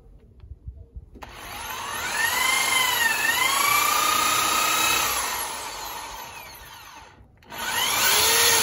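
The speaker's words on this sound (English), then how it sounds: "It's really easy to drill away at the bricks with that masonry drill." A masonry drill whines steadily at high pitch, its tone rising and dipping as it bites into brick, stopping briefly before starting again.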